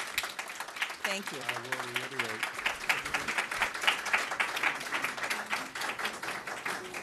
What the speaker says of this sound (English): The applause has to stop